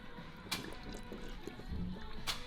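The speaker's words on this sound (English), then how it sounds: "where you can see all the water coming out of the yellow pipe" Water draining from a combi boiler's yellow blow-off pipe into an outside drain, faint trickling and dripping with a couple of sharper splashes, quiet and near.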